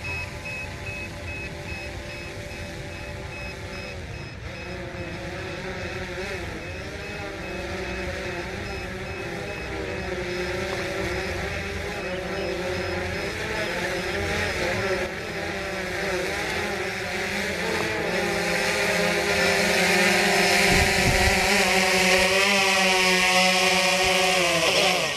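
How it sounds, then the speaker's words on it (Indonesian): A camera drone descends over a hillside, its motors a steady whining buzz with layered tonal hum, growing gradually louder and nearer toward the end, with no talk. "Ini drone-nya saya turunkan dulu teman-teman ya."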